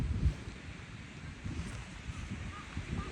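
Wind gusts across a park and buffets the microphone in low, uneven rumbling surges, with a faint airy hiss behind.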